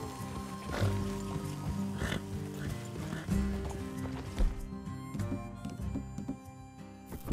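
Horses trot in Red Dead Redemption 2, with rhythmic clip-clop hoofbeats sounding close and moderately loud over a game soundscape, with no talk.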